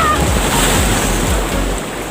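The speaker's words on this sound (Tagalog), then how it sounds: "Malaki ng alon, no?" Loud, rushing surf churns close by, a continuous roar of breaking ocean waves mixed with gusty wind noise.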